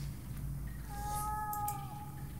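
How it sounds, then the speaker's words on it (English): A cat meows in the horror adventure game The Last Door, one drawn-out plaintive mew that slides down in pitch, heard through a dim, low ambient rumble with no talk. "It's the cat, right?"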